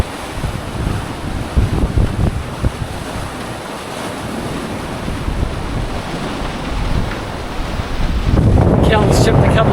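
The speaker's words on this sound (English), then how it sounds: "I've been down below watching these waves go boosh, splashing through." Sea waves splash and rush against a sailing yacht crossing the Aegean in a strong Meltemi wind, with constant wind roar on the microphone and a louder surge of water near the end.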